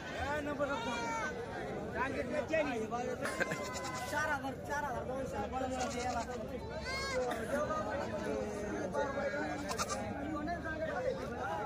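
Several goats bleat repeatedly amid a busy crowd at the Shevgaon goat market, their calls rising over constant chatter and people talking nearby.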